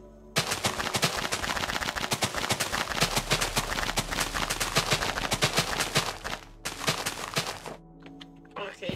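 A chain of TNT explosions from a super nuke in Minecraft rattles off as a rapid, dense barrage of loud blasts and booms, continuing almost without pause before a brief lull and a final burst.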